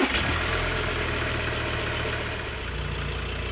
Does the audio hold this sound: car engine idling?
yes